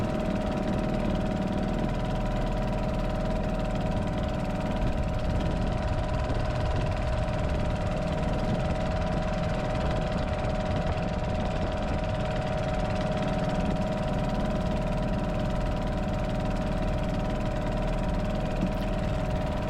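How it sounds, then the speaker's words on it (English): A small outboard motor on a sailing dinghy idles steadily while the boat is lined up in tight quarters, a constant close, mid-pitched engine drone with light knocking that holds for the whole stretch. "got the motor still running until I had a clear way to turn off the motor"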